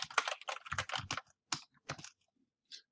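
Fingers tapping on a computer keyboard in a quick burst of keystrokes, then a few slower, separate presses with pauses between, close and fairly quiet, with no voices.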